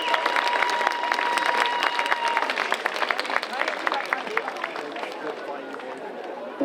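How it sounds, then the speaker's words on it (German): Applause from an audience at a live event fills the whole stretch, a dense steady wash of clapping with a faint sustained tone early on and voices talking over it. "Ein Applaus für mich und applaudiert euch alle selbst."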